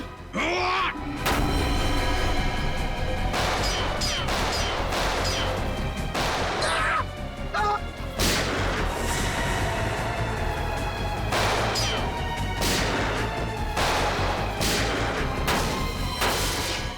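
Repeated sharp bursts of gunfire from a TV police drama scene, loud broadband cracks recurring every second or two over a dense, busy background with faint voices.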